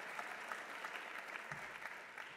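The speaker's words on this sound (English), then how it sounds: "a round of applause, if you would, for Senator Rubio" A faint, even round of audience applause for a senator at the Opportunity Nation Summit. The clapping is steady and unbroken throughout, with no speech over it.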